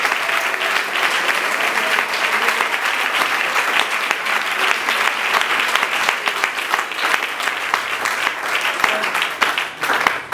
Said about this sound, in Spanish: Denle ese aplauso bien fuerte al Señor Jesucristo.